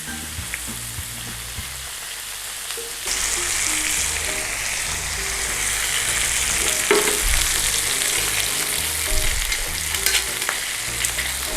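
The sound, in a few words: pork chops searing in a frying pan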